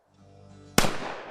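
A single sharp shotgun blast rings out at skeet shooting, a loud sudden crack with a long decaying tail, preceded by a low steady background hum.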